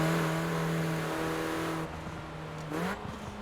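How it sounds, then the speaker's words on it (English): A Mini Cooper John Cooper Works convertible in Forza Horizon 4, its engine droning steadily under turbo whine, then the revs drop and climb again near the end. "Hear all the turbo noise."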